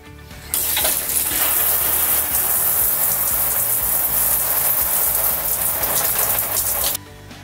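Water from a caravan shower sprays and splashes in a steady hiss that starts abruptly, runs evenly for several seconds, then cuts off.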